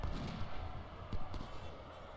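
Faint infantry musket volleys crackle and pop in a Civil War strategy game, scattered low thuds and distant bursts at low volume.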